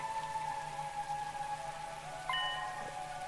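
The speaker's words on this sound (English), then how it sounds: "This rain stuff is nothing but trouble." Steady patter of rain in a video game, a soft continuous hiss with faint tonal background music running beneath it and no voices.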